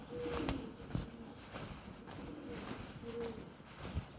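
Pigeons under the gutters on a street coo softly in repeated low calls, faint and somewhat distant in quiet outdoor ambience.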